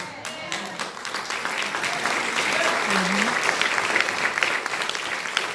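A church congregation applauds during a sermon, a dense burst of clapping that swells and holds steady for several seconds with crowd noise underneath.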